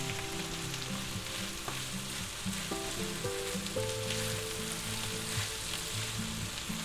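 Onions and smoked ham fry in a pan for a crustless three-cheese quiche. A dense, even sizzle fills the clip under faint background music, with no talking.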